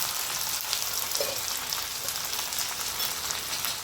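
Curry leaves crackle and sizzle steadily in hot oil as a dense, even frying hiss, made while preparing crisp thin poha chivda, with no voices present.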